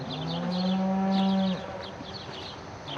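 Cattle in a barn at the Iowa State Fair let out a deep, sustained moo that swells for about a second and a half and then fades, with fainter lowing and barn background noise continuing afterward and no talking.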